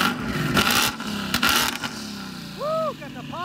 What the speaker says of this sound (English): All right, Zach's gonna rev it.